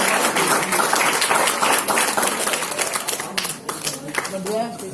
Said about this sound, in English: Can you have a big round of applause for parents